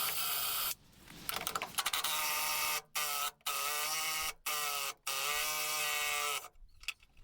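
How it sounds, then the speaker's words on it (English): A wire wheel on a power tool grinds at the rusty Torx bolt head on a Ford Transit MK7 van, a loud, steady whine broken by several short pauses as it starts and stops. "So we're going to take the wire wheel of this first."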